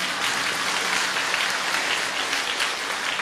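Audience at a Buddhist Dharma talk clapping steadily, a dense, loud and even wash of applause from many hands throughout, with no voices above it.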